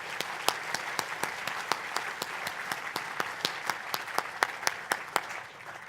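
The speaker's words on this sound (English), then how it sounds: "Another round of applause, please," Sparse, faint applause at a Treasury breakfast event honouring the Treasurer, a handful of distinct rhythmic claps repeating evenly before fading out at the end.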